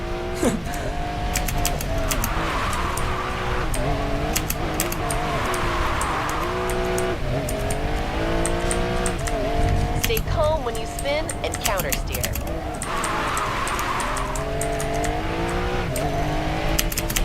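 A car engine drones and shifts pitch through gears in the Racing Master racing game, with rising and falling revs, brief squeals and a loud, constant mechanical hum under ongoing talk.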